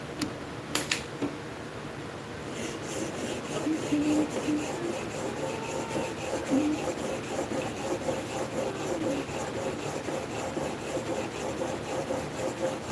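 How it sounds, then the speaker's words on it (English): A plane blade from a junk hand plane is rubbed back and forth on a 400 grit Amazon Basics sharpening stone, making close, rhythmic gritty scraping strokes after a few sharp knocks at the start. "400 grit Amazon Basic Stone. This is mostly what I sharpen with."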